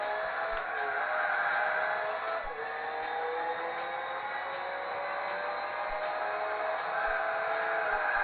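Mazda RX-7 racing in the Gran Turismo 4 video game, its engine holding a steady, loud drone with gear-shift dips and rising pitch sweeps as it accelerates, with no voices over it.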